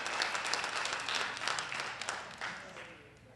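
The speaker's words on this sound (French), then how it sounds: "Une bonne main d'applaudissements pour les Suisses" A crowd claps and applauds, dense at first, then gradually thinning and fading over a few seconds.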